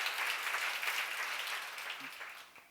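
A church congregation applauds during a sermon, a dense, steady clapping that tapers off and fades to near silence by the end.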